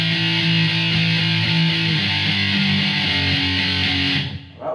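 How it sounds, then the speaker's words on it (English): Heavily distorted electric guitar chugs through a power-chord riff, loud and dense with fast repeated palm-muted chords that stop abruptly near the end. "so that part sounds like this"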